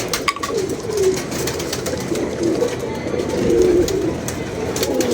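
Several pigeons coo steadily in low, rolling calls close by, with faint background clatter and brief distant voices.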